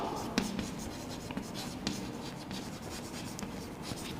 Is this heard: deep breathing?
no